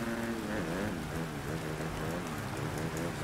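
Steady rain pours down on an open, roofless stadium track in the motocross video game Monster Energy Supercross, a dense continuous hiss with no talk over it.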